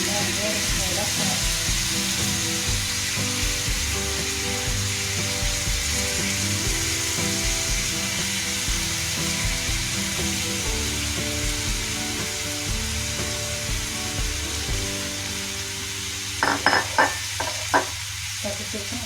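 Chicken frying steadily in hot oil, a dense continuous sizzle throughout with a few clinks of a utensil against the pan near the end, no voices.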